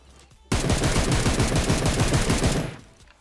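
Sustained automatic gunfire from the PUBG Mobile battle royale game, a loud rapid burst of shots lasting about two seconds and then fading, heard alone with no talking.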